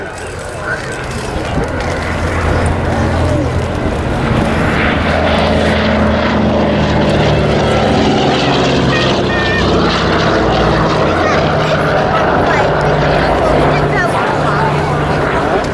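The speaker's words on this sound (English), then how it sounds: "Lovely rumble of the two Pratt & Whitney 14-cylinder radial engines." Dakota ZA947's two Pratt & Whitney 14-cylinder radial engines rumble steadily and loudly at RAF Cosford, a deep continuous propeller drone with a slowly shifting pitch, with no talk over it.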